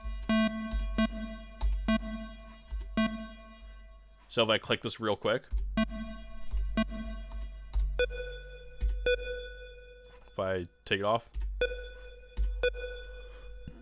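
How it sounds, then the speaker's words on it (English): Synth notes played in Bitwig Studio with reverb toggled on and off, a sequence of clear tones, some dry and some with a reverb tail trailing after, while someone talks between and over the notes. "you can hear how like the reverb kind of comes after the note when it's on max"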